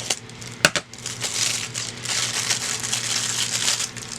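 Plastic mailer of a small Wish package being cut open with scissors or a blade: a sharp snip near the start, then sustained close crinkling and tearing of the plastic wrap.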